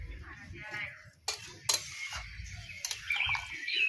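A spoon scraping spices off the sides of a wok of chicken curry, sharp metallic scrapes and clinks in short bursts over a faint simmer, with someone talking quietly in between.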